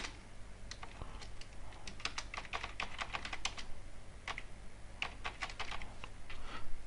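Fingers clatter over a computer keyboard while code is typed, with quick bursts of sharp key clicks separated by short pauses, close and fairly quiet over a low steady hum.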